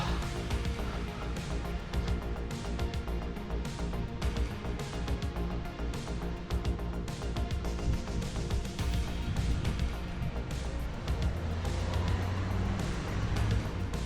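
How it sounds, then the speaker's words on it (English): Cars pass a cyclist on a narrow country road near Gwaenysgor in Wales, a steady blend of engine and tyre noise that swells and fades as vehicles go by. No voices are heard. "Cars."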